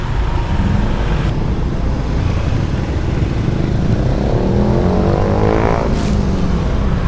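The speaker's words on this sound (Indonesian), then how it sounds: "semua kendaraan harus bergantian untuk melewati jalur ini" Cars and motorcycles roll past one after another on a landslide-damaged road at Pujon, with engines rumbling loudly and close and one vehicle revving as it goes by.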